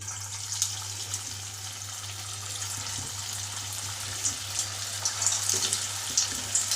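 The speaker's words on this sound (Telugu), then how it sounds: "ఇప్పుడు వీటిని అయితే నూనెలో ఫ్రై చేసుకుందాం" Vegetable manchurian balls fry in hot oil, giving a continuous bright sizzle with a low steady hum underneath and a few small pops near the end.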